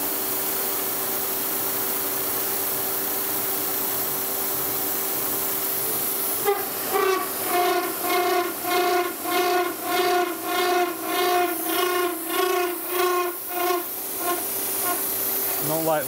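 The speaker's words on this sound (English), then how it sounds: "we've slowed things way down here to get rid of that chatter" Milling cutter chattering while machining a bearing wedge for a steam locomotive: after a steady hum, a loud, rhythmic pulsing chatter starts and repeats for several seconds, close by and with no talk over it.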